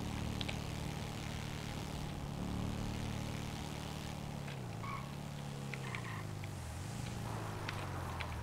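Helicopter in the Zombie Adictos RP video game, a steady low rotor drone with a droning engine hum that dips and rises in pitch twice, continuous and moderately distant.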